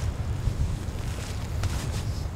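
Steady wind blows outdoors on an open, breezy day during woodcock banding, a continuous low rumble buffeting the microphone with a faint hiss above it.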